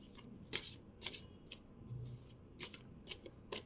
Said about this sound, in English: Now the last card, last deck for shuffling.